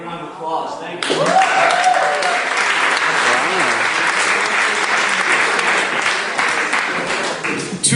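Audience at a magic show breaks into loud, sustained applause with dense clapping and some cheering, following a brief stretch of speech, then continuing steadily to the end.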